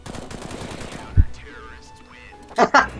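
Gunfire in the video game CS:GO: a single sharp, loud shot, then two quick shots close together near the end, with talk beforehand.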